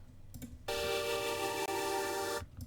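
A sustained synth pad chord swells in abruptly, holding a rich, steady harmonic tone for about two seconds before cutting off, with a brief click near the start.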